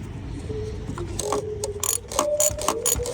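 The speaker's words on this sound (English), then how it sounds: "Tighten the filter housing to 25 Newton meters." A ratchet wrench tightens the fuel filter housing on a Ford Fiesta 1.6 TDCi during a filter service. Quick mechanical clicks come in short bursts close to the microphone, with no talking.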